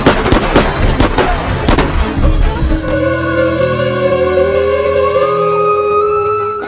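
Rapid volley of gunshots from an Indian action film, dense sharp cracks for about three seconds, then giving way to sustained tonal music or ringing that swells to the end.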